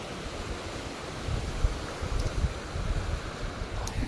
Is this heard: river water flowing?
yes